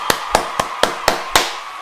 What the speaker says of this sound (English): And now, we're gonna clap it up for MultiVersus.